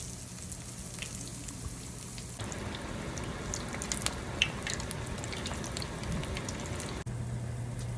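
Fish frying in a home deep fryer, a quiet steady sizzle and bubbling hiss with scattered small pops and crackles, heard close and alone.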